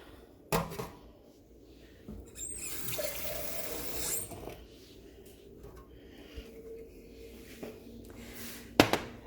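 Water from a tap is added to soap in a container for a soap and vinegar garden mixture, a quiet splashing rush lasting about two seconds amid soft clinks and handling knocks.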